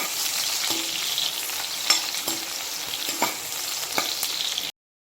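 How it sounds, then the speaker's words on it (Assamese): A large onion frying in a pan until golden brown, giving a steady, close sizzle with occasional light stirring clicks from a utensil, fairly loud and uninterrupted, ending abruptly. "পিয়াজটো গোল্ডেন ব্ৰাউন হোৱালৈকে ভাজি লম।"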